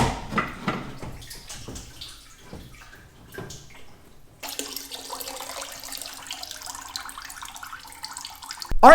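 Coolant drains from a car radiator as a splashing, trickling liquid flow, then shifts to a steadier rushing pour partway through, with no talking.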